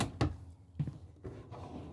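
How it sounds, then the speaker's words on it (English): Drawers in a Renegade Valencia 38RB Super C motorhome shut with a few solid, close thuds, roughly three knocks spaced about half a second apart in a quiet interior. "I love how stout these drawers are."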